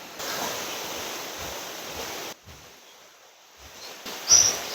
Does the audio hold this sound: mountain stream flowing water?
yes